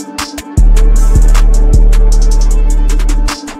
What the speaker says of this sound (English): So do you want to make hard beats that sound like this?